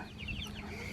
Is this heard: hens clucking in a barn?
yes